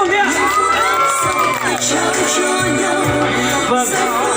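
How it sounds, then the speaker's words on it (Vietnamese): Wedding guests cheer, whoop and shout for the bride and groom in a lively crowd, a dense continuous roar of many voices with scattered high shouts, loud and close. "Chúng ta cho một tràng vỗ tay thật nồng nhiệt để cùng chúc mừng nhé."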